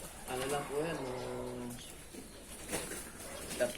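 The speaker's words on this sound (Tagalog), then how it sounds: "pinakawalan nila yung ibon dito" Racing pigeons of the Taiwan Gold line coo softly near a fancier's loft in Bataan, heard under steady talk from people nearby.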